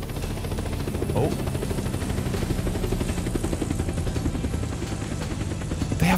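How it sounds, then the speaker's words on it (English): Helicopters in the video game Unturned, part of a large convoy, whir with a steady rotor drone and low rumble throughout, while a person speaks briefly over the noise. "They have choppers and everything."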